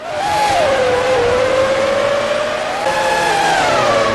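Formula One race cars from the 2003 season in the video game F1 2003, a loud, steady high-pitched engine whine that rises and falls as cars pass during a race at France, with no talk over it.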